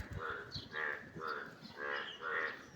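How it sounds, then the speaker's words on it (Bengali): Frogs croak loudly near a rain-soaked garden, giving about five rhythmic, nasal, pulsing calls in quick succession with no other voices. "আর ব্যাং ডাকতেছে, খুব ব্যাং"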